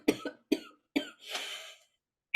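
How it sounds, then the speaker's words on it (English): Four close coughs, the last a longer raspy hacking burst, loud and near, with no talking. "ruining my own oration with coughing"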